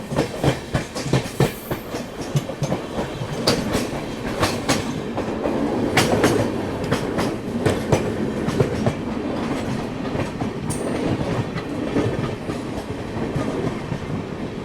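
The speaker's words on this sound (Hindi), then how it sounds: "आज ये ट्रेन ऑलमोस्ट ऑन टाइम निकली है।" Kathgodam Shatabdi Express passenger train running on rails, with a continuous rumble and steady rhythmic clickety-clack of wheels over rail joints, heard close from on board with no talking.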